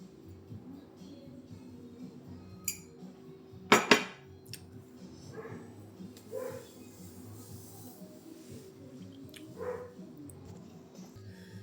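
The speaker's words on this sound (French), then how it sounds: "j'ai dû couper parce que chez mes chiens, ils sont hyper excités" Excited dogs indoors give a few short barks and whimpers, with one louder burst of yelps among faint clatters and thumps.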